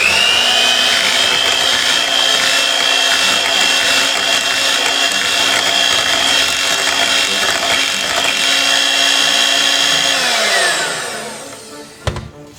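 An electric mixer whirls strawberry cheesecake batter with a steady, loud motorized whine that holds for about ten seconds, then winds down and stops, followed by a brief clunk.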